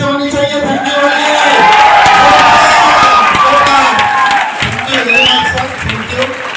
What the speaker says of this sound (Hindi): ताली कैसे होनी चाहिए?